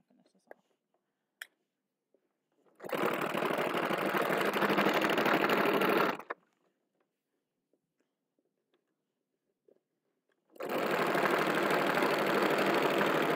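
A domestic sewing machine stitches stretched fabric at the wing of a garment, running in two steady bursts of several seconds each, close and loud, separated by a quiet pause.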